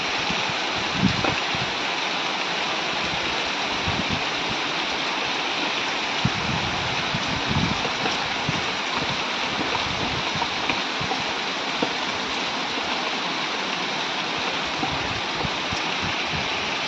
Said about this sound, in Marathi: तुफान पाऊस सुरू झाला, तुफान पाऊस.